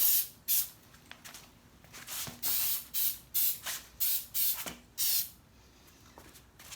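A spray gun coating a custom swing-out tire carrier, with a rhythmic series of short loud hissing bursts and brief pauses between passes.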